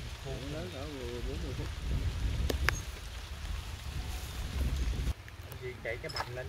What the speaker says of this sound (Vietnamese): Cái này mưa xuống rồi, thấy cái này chắc cả tiếng à.